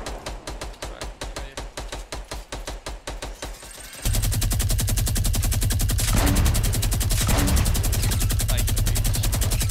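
Rapid automatic gunfire in the battle royale game Fortnite, a fast even string of sharp shots for about four seconds, then giving way to a louder, dense, continuous roar of overlapping fire and noise.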